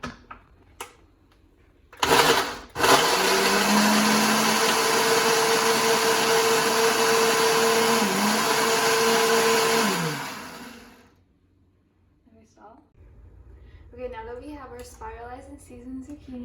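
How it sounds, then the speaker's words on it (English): A kitchen blender purees marinara tomato sauce with a loud, steady motor whine for about eight seconds, starting and stopping abruptly. A voice speaks briefly after it stops. "Okay, so now we're just going to blend it all together."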